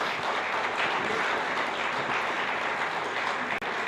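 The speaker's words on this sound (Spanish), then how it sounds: "Démosle un aplauso" A church congregation at a Bible seminar breaks into steady, dense applause, many hands clapping together at an even, sustained level until a brief dip near the end.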